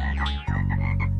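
Cartoon frogs croak in a short burst of warbling, rising-and-falling calls over a steady low drone, loud and close with no voices.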